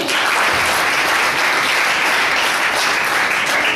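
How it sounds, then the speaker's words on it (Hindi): Steady, dense audience applause at a Mumbai youth conference on saving the girl child, loud and continuous throughout with no talk over it. "उनके लिए भी हम तालियां बजाएंगे"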